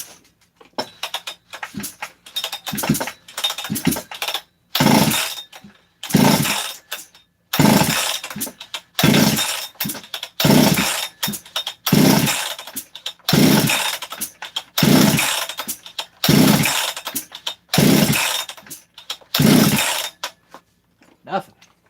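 A small engine, likely a chainsaw, is pull-started on choke: a long run of rhythmic, loud rope pulls, each a short rasping burst of cranking, with no steady running afterward.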